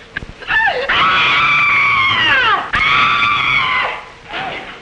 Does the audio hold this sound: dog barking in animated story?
no